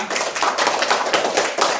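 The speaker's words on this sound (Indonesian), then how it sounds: "Oke, tepuk tangan untuk semua." Classroom of pupils clapping together, a short burst of quick, fairly loud hand claps running for about two seconds without speech.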